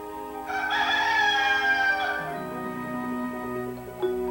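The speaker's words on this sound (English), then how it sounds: "What wakes Dale up? The rooster does. Cock-a-doodle-doo, he sings." A rooster crows once, loud and close, its long cry rising then trailing off, followed by soft clucking in the background.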